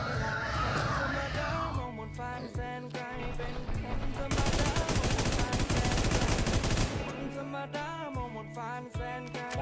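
Video game gunfire crackles in bursts, with a sustained stretch of rapid automatic fire in the middle and sharper single shots around it, loud and close over game music.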